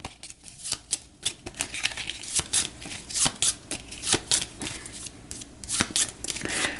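Objective cards for the board game Cartographers being shuffled by hand, unsleeved, a close series of crisp riffling bursts and soft taps repeating for several seconds.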